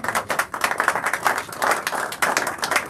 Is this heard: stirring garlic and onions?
no